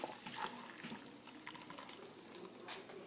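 Boiled water pours and splashes steadily for a few seconds, a close, continuous liquid rush with small gurgles, no voices.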